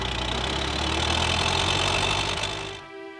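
A railway engine idles with a loud, steady droning hum, then cuts off abruptly near the end, leaving quiet.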